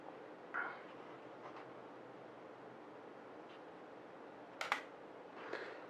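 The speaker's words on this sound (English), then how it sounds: "you can kind of hear the shutter take a second" An Olympus XA2 compact film camera fires its shutter in low light, producing a couple of faint, soft clicks with a slight gap between them over quiet room noise.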